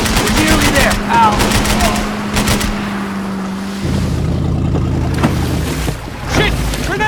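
A damaged boat motors through water in Max Payne 3, its steady low engine drone shifting pitch partway through, with bursts of gunfire and shouting voices over the top.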